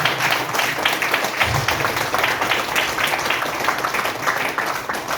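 An audience claps loudly and steadily together, a dense, continuous burst of applause filling the room without pause.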